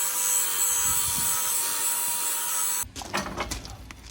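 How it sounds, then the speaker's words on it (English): Grinding or polishing metal welds on a fabricated bale trailer with a power tool, a steady high whine for nearly three seconds that cuts off abruptly, followed by clunks and handling noise. "doing a little more polishing here"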